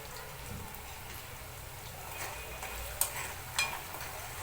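Potatoes, peanuts and chillies for sabudana khichdi fry quietly in a pan with a soft steady sizzle, broken by a couple of light stirring scrapes and clinks of a spoon against the pan.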